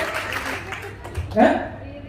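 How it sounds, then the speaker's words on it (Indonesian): Seminar audience clapping for a woman, a brief scattered patter of hands mixed with talking voices, with one louder burst near the end. "Buat tepuk tangan buat ibu ya"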